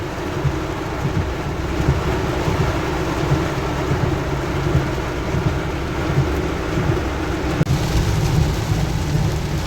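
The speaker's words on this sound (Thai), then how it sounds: "วันนี้ฝนก็ตกหนักเลยนะครับ" Heavy rain pours steadily and loudly throughout in Bang Kapi, Bangkok, a dense continuous roar with a low rumble underneath and no voices.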